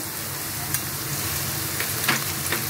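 Half-fried chopped onion and capsicum sizzle steadily in a pan for a Bengali rui chilli fish dish, a continuous close hiss broken by a few sharp crackles and stirring scrapes, with no talk.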